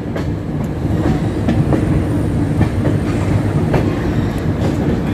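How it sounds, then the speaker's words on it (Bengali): The Howrah-Amritsar Mail pulls into Pandit Deen Dayal Upadhyaya Junction (Mughalsarai), heard from on board as a loud, steady rumble with repeated rhythmic clickety-clack of wheels over rail joints, and no voices. "আমাদের ট্রেন এখন মোগল সরাই মানে এখন যার যে স্টেশনের বর্তমান নাম পণ্ডিত দীনদয়াল উপাধ্যায় জংশন ঢুকলো"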